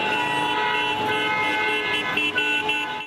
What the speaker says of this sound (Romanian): Cei din sectorul Horeca au venit și ei la manifestație, doar că au protestat din mașini, claxonând minute în șir